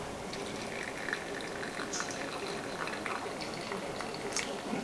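Kettle water pours in a steady stream into an Origami coffee dripper, a soft continuous hiss and splash for the whole stretch, fairly quiet and close.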